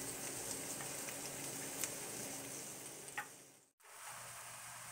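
Shrimp fry in a hot pan for fried rice, giving a steady close sizzle with small pops, broken briefly by a short silent gap near the end before the sizzle resumes.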